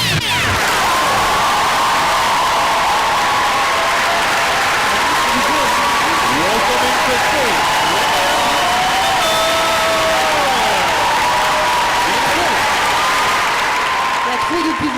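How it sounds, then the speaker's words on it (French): Studio audience applauding steadily and loudly throughout, a dense wash of clapping with a few cheers and voices mixed in. "Kyle, applaudis."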